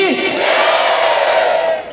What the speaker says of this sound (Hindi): एक बार जोरदार तालियों से अभिनंदन कीजिए और सुंदा माता जी के नाम का जयकारा लगा दीजिए